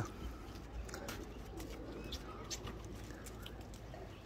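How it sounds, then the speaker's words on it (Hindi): Soft pigeon cooing repeats against a steady outdoor background hum, with scattered faint chirps and light patter. "काफ़ी पुराना कबूतर हमारा वापसी आ चुका है"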